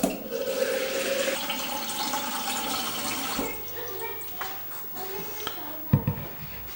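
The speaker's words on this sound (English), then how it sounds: "I'm going to half fill this container with filtered water." Filtered water pours and splashes into a container for yogurt-making, a steady rushing stream that fades after a few seconds, followed by light handling knocks.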